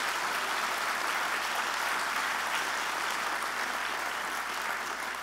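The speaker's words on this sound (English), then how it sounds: "Give the staff an incredible round of applause." An audience applauds a staff team at a formal gathering, steady dense clapping filling the whole stretch at an even, sustained level without voices.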